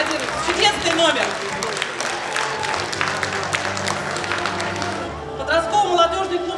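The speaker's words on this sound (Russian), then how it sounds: "Аплодируйте. Чудесный номер." Audience applause at a children's studio reporting concert finale, dense steady clapping filling the hall with a brief swell near the end and a voice faintly over it.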